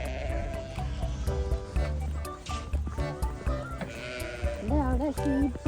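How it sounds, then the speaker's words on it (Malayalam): Sheep bleating at an animal farm in Graves Park, Sheffield, England, several wavering calls rising over continuous background talk and farm noise, the clearest bleats coming toward the end. "കുറെ ചെമ്മരിയാടുകളുണ്ട് അവിടെ"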